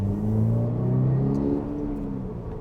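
A stock Toyota GR86 fitted with a carbon fibre intake revs up close by, giving a loud droning engine note that rises and then settles back to a lower hum over a couple of seconds, with nobody speaking.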